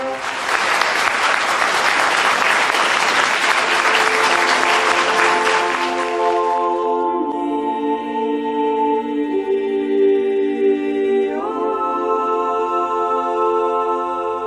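Loud audience applause follows a musical medley in the Remter of Magdeburg Cathedral. The clapping is dense for about seven seconds and then gives way to sustained tonal music that carries on to the end.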